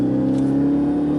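A 2018 Ford Fusion Hybrid SE accelerating, with a steady, smooth low engine and motor drone at close range, no talk.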